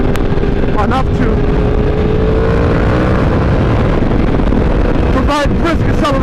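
A Yamaha R1M sport motorcycle's exhaust drones loudly and continuously while riding, buried in heavy close wind rush and a deep steady rumble.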